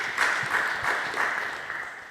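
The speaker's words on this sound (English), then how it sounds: "Clap for Professor Kivutha Kibwana" Applause from an audience gathered at a host's home for an East Africa art and meat evening, welcoming the host professor; steady, moderate clapping with no voices over it.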